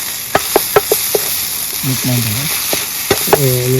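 Four-egg bhurji fries in a hot pan with a steady, loud sizzle, punctuated by sharp pops and clicks and a few brief tonal squeals.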